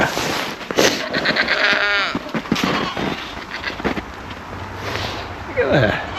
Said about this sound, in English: Good girly goat.